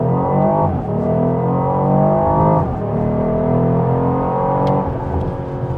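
A 2025 Porsche Cayenne S E-Hybrid accelerating hard in first gear, the loud engine note climbing steadily in pitch with a brief dip partway through, then pulling up again, heard from inside with no talking.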